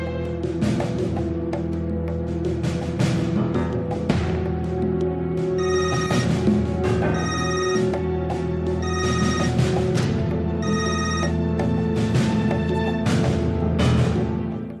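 A telephone rings with an incoming call, loud repeated bursts of ringing in a steady pattern over a continuous musical background.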